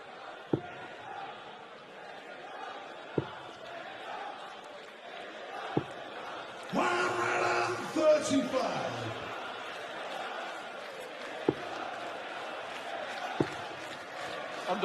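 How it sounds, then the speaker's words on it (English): A darts crowd in Melbourne's Hisense Arena murmurs steadily, swells into a brief cheer midway, then settles back. Sharp isolated taps punctuate the background every few seconds. "Oh, the crowd were on their feet here at the Hisense Arena in Melbourne."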